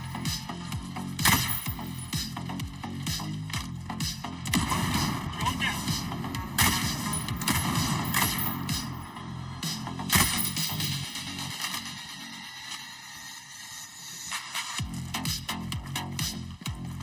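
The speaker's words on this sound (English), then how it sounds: "Who's shooting mortars?" Mortar fire in the shooter game Ghost Recon Breakpoint: repeated sharp blasts and cracks burst over a busy backdrop of gunfire and game noise, with talking mixed in.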